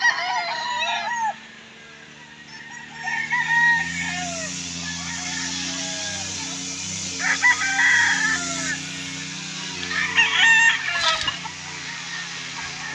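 Gamefowl stags crow repeatedly and cluck on a farm, with several birds near and far overlapping over a low steady background hum.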